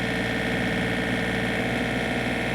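A 2023 John Deere 3032E compact tractor engine holds a steady, dense mid-range drone as the throttle is raised, loud and close with no talk.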